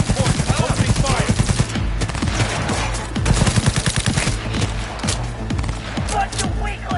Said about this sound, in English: All units report. Opening fire!